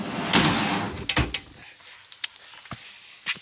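A Craftsman Professional tool box drawer slides open with a rolling metal rush and a clunk, followed by a few sharp clicks and knocks of tools settling inside.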